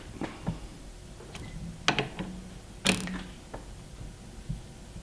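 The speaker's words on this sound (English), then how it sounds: "Air ratchet." An air ratchet tightens a fastener while new gears go into a Jeep, giving a few short bursts of clicking, hissing mechanical noise with creaks and clanks between them against quiet shop background.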